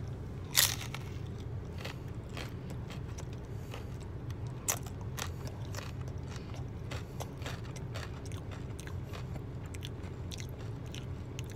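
Someone bites into a crunchy Burger King taco and chews, with a sharp crack at the first bite and then a steady run of small crisp crunches, close and quiet, with no talking.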